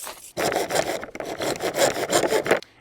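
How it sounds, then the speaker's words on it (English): A saw cuts through a plastic rain gutter in steady back-and-forth strokes, with a rasping, scraping rhythm that is close and continuous and has no talking over it. "that acts as a handy guide for sawing it as well"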